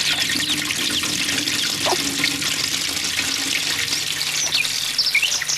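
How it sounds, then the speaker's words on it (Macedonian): An outdoor courtyard water tap runs steadily to fill a new red toy water pistol, a continuous close rush of water with faint bird chirps in the background. "Прво наполни го. Вие имате чешма од дворот."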